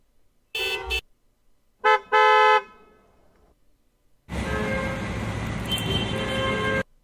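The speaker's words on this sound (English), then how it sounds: "I want to add a little car horn here." Car horn honks: two short toots, then a longer blast, and finally a sustained horn tone lasting a few seconds, each standing alone with silence between.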